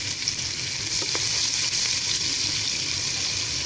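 Onions frying in hot oil until crisp for chicken biryani: a dense, steady sizzle that stays loud and even throughout, with no voices.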